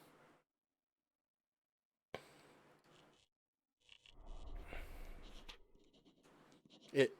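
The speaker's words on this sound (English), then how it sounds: "Sounds like a ballpoint pen scribbling away on a sheet of paper." A ballpoint pen scratches rapidly across paper in the horror game Corpse Party, in quiet, intermittent bursts separated by silence, with some speech mixed in.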